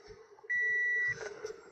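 A single sustained electronic beep from a Toyota MMT clutch actuator system, clear and steady for about half a second, with faint clicks and handling noise around it.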